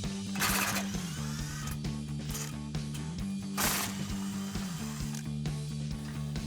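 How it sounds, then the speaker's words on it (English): A 15mm swivel socket backs bumper bolts out of a 2019-2025 Ford Ranger, making a close, busy mechanical whirring and ratcheting chatter with repeated sharper bursts across the few seconds. "I'm taking that same 15mm swivel socket that I used on the skid plate to remove these 2"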